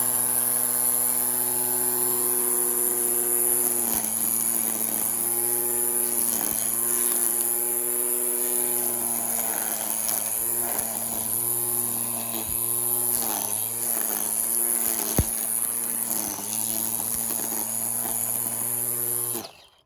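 A Craftsman V20 battery-powered string trimmer whines steadily at a high, even pitch, dipping briefly in speed several times as it cuts, then winding down at the end; close and loud with no talk.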